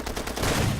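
Gunfire from a weak player weapon in Far Cry 2, a dense burst of shots building over under a second, with no talk.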